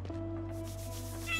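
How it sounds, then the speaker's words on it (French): A cat meows in the video game Chained Echoes, a short cry over a steady game music bed, with a brighter chime near the end. "Il y a un minou à caresser ici."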